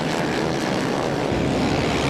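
Motocross bikes and quads, including a Yamaha Raptor quad and a Honda 450, race into the first turn on a beach, a steady loud droning engine roar with no gaps throughout.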